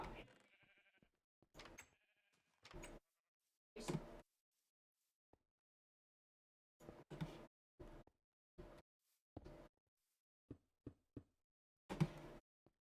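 Minecraft sheep bleat in a series of short, separate calls with silent gaps between them, some in quick clusters, plus a couple of faint knocks.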